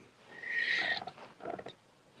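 A cat makes a short, growly, rasping vocalization, close and fairly loud, followed by a few rougher broken bursts and a brief knock at the end.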